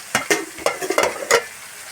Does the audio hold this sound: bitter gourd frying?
yes